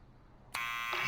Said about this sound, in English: What is this? Buzzer.